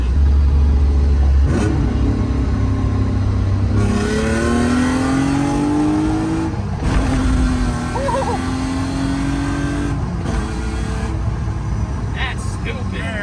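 A BMW E36 Compact with a stiffened rear end accelerates hard, its engine climbing through rising revs across several gear changes, loud and close with the tires scrabbling for grip, while someone talks over it.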